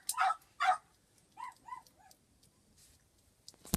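A chihuahua barks close by: a couple of sharp yaps, then a quicker run of three higher, softer yips, with quiet gaps between and no talking.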